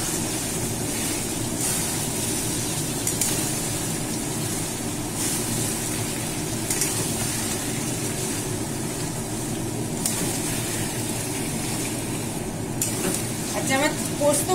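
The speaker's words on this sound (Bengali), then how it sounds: "যে 50 গ্রাম পোস্ত বেটে রেখেছিলাম সেই পোস্ত বাটাটা দিয়ে দিচ্ছি" Poppy seed paste being stirred into mutton frying in oil, a steady sizzle with scraping stir sounds running continuously, moderately close.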